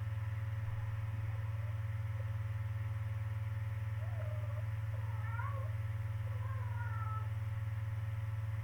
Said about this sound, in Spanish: Disculpen a la gatita de fondo.